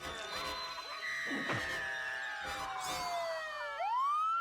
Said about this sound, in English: Bring in the screams and the naked gun siren.